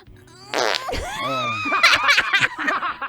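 A child breaks wind with a short, loud, buzzy burst, followed by nearby voices and a brief snicker.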